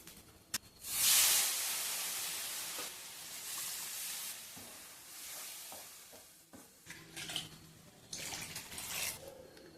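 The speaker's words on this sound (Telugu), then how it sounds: "ఇందులోకి కొంచెం నీళ్ళు పోద్దాం." Water pours into a cooking pot of bisi bele bath already holding tamarind juice and masala, a brief loud splash and hiss that fades into quieter bubbling and stirring sounds.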